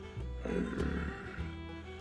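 A voice gives a low, gravelly growl imitating a bear's grumble, a single rumbling sound lasting a couple of seconds.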